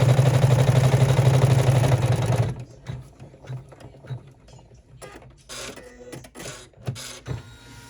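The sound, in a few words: embroidery machine stitching a vinyl sling backpack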